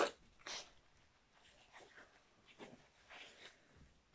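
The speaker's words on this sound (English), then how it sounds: "Now I've finished sneezing all over the place." A few faint, quick sneezes and sharp breaths burst out close by in an otherwise quiet room, with short silences between them.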